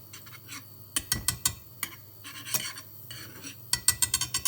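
A whisk spreading melted butter around a pan for scrambled eggs: quick bursts of metallic scraping and tapping against the pan, irregular and close, with a soft sizzle beneath.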